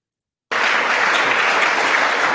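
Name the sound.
applause in chamber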